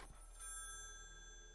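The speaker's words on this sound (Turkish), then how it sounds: "Telefon çalıyor abi." A telephone rings in the horror video game Maid of Sker, a quiet, steady electronic ring heard alone against a faint background hum, with no talking.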